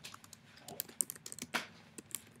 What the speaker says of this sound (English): So I'm going to type out scientists